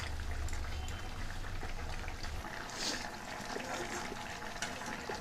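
Sliced flat beans simmer in water in a pan as small meni fish are set on top for a mustard-paste curry, a faint, steady low bubbling throughout.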